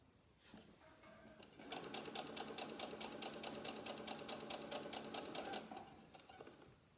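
A sewing machine stitching squares of fabric one at a time, its needle running in a steady rapid rhythm for several seconds after a quieter start, then stopping, close and fairly loud.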